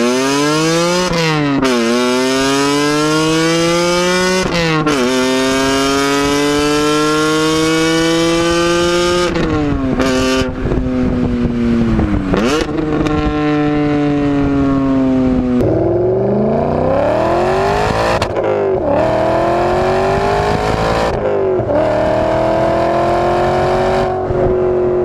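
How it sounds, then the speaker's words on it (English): BMW E39 M5 with its V8 engine revving loud and close, the pitch rising and falling through repeated climbs and gear shifts with no talk. "In the E39 M5, you've got a throaty V8."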